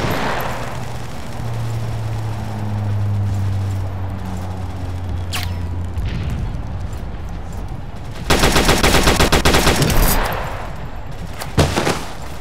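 Gunfire in the World War Heroes video game, a dense rapid burst of automatic shots lasting about two seconds over a steady background rumble and drone, followed later by a single sharp report, loud and close.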